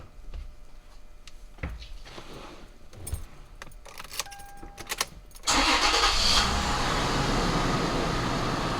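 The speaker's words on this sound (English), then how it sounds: "So now we're going to go ahead and run the vehicle for 10 to 15 minutes" A car engine cranks and catches partway through, then runs steadily and loud near the microphone while an engine flush treatment circulates during a maintenance job, with some jingling and handling noises before the start.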